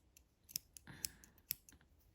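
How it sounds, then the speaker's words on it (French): Worn scissors cut crochet yarn with three crisp, close snips about half a second apart, with faint clicks between them in a quiet room. "je coupe mon fil"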